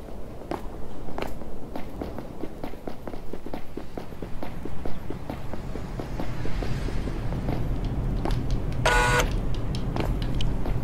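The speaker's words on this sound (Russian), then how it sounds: "Я слышу шаги." Repeated footstep taps in the side-scrolling action game Rocketbirds, a steady walking rhythm of soft, fairly close steps set over a continuous game soundtrack and ambience, with a brief bright electronic burst near the end.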